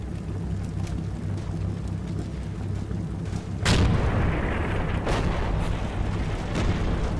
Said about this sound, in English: the covering fire is intensified